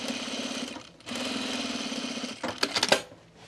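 A sewing machine topstitches a seam on a waterproof men's utility jacket, running in a steady close whirring rattle, pausing briefly, running again, then ending with a few clicks and clatters.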